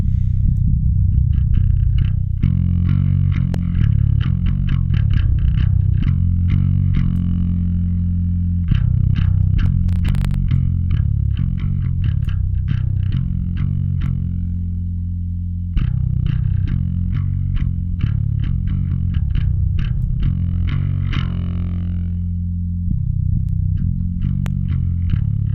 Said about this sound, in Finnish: Ja se basso kuulostaa nyt säröitetyltä itseltään